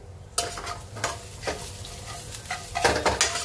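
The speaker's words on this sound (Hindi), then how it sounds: "अब इधर प्याज हमारी भुन रही है।" Onions sizzle and brown in a pan, a continuous frying hiss punctuated by repeated scraping strokes of a spatula, close and fairly loud, with no talking.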